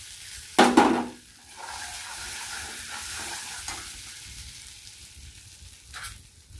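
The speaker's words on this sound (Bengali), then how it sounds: "এটা ভালো করে একটু ভেজে নেব।" Spices frying in a pan for an aloo matar paneer curry, a steady low sizzle with a loud scraping stir near the start and a couple of softer stirs later, close and without talk.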